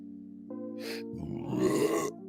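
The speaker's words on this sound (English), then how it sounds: "How's that burp?" A person burps close into a microphone at home, a single long, drawn-out belch with a tonal, croaking quality that rises into a louder, rougher finish before trailing off.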